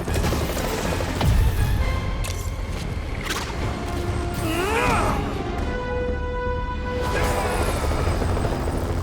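Stolen helicopter in the Spider-Man PS4 video game, a steady rotor and engine rumble mixed with game effects, a sweeping whoosh and impacts, fairly dense and continuous.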